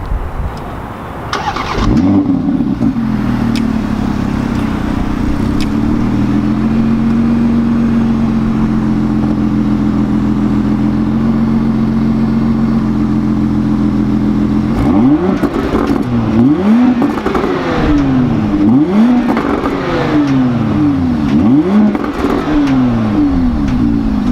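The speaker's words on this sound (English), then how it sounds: "I think I'm gonna start it up so you can hear it, and then we'll go for a drive." A 2017 Porsche Panamera cranks and fires up, settles into a steady idle, then gives several sharp revs that rise and fall, loud and close with no talk.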